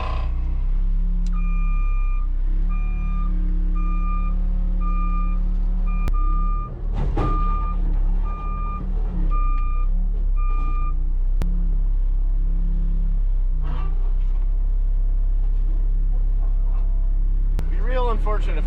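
Telehandler reversing alarm beeping in a steady evenly spaced run over a constant diesel engine rumble, close and loud, the beeps stopping partway while the engine keeps idling and revving with clanks.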